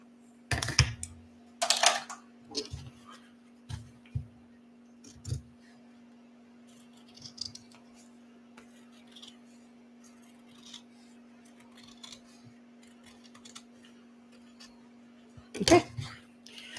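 Scissors snipping fabric for a Victory Bowler Bag at a sewing table, a few sharp cuts clustered at the start and a louder one near the end, with soft handling noises and a steady hum between.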